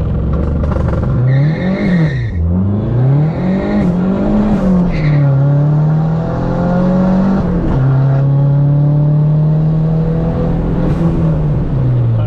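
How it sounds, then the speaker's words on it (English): A Dodge SRT4 accelerating hard on an open road, its loud engine note climbing through gears with rising revs, brief shift dips, and a long sustained pull near the microphone, with no talking. "I'm going to show Jordan how to drive this thing quick"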